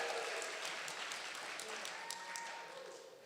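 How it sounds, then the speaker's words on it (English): Wedding guests applaud the couple at a celebration, a dense wash of clapping that stays steady and fairly loud before easing slightly at the end, with faint voices mixed underneath. "Give them a round of applause."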